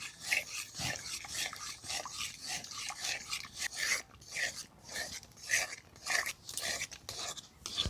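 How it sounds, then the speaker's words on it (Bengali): Carrot barfi mixture is stirred in a pan, a rhythmic series of rasping scrapes repeating about once or twice a second, close and fairly soft, with no speech. "এইভাবে কিন্তু অনবরত নাড়তে হবে।"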